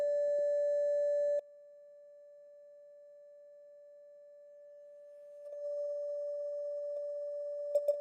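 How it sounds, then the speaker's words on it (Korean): A pure 581 Hz sine tone played from a phone app in a classroom. A steady tone sounds, cuts off after about a second, then returns faint and swells back to a constant level. "지금 휴대폰으로 581Hz의 소리를 내는데"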